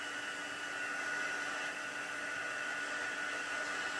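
Heat tool blowing a steady, loud hiss of hot air onto embossing powder to melt it, an unbroken airflow rush lasting the whole moment with no voices.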